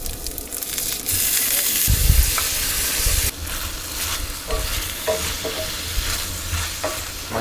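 Loud, steady sizzling of chili frying in a mini cast iron skillet at a winter camp, with scraping stirs and clinks of the utensil against the pan, heard close up with no talking.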